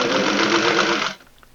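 A sewing machine runs in one steady, fast whirring burst while it stitches potholder binding through layers of recycled towel. It is close and loud, then stops abruptly with a faint click.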